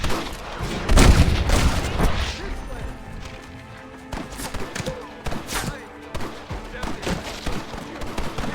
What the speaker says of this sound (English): Marston, use that Gatling gun! Take him out from the gate!